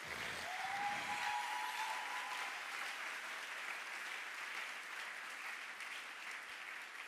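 A congregation at a religious gathering breaks into sustained applause, with dense clapping that stays fairly even and fades slightly toward the end, alone with no talk.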